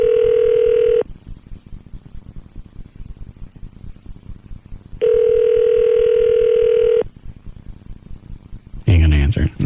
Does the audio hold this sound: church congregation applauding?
no